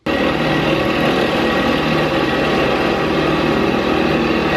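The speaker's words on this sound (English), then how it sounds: "let's try and bore out these 5 holes perfectly" Power drill boring out holes in a home workshop, running as one loud, steady, unbroken motor drone that fills the whole stretch with no pauses or voices.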